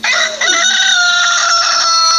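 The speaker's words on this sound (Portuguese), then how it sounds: "O galo cantou." A rooster crows loudly and close by, one long drawn-out call held strongly for about two seconds with no other sound around it.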